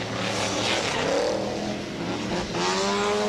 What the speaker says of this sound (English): Coming down the main straight, they'll reach the halfway point in the race here where Alan Butcher has the lead